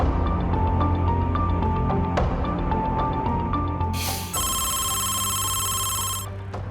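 A telephone rings, a loud electronic trill that starts partway through and repeats, after a steady background hum, with no speech.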